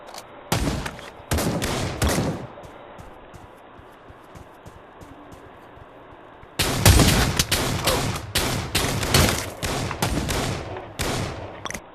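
Gunfire from a heavy-recoil field gun in the Pavlov VR shooting game: loud, close bursts of rapid shots, a pause, then a longer stretch of dense repeated firing.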